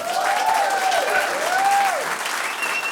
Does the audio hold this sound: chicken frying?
no